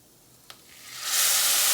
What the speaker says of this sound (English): it's going to sizzle when it goes in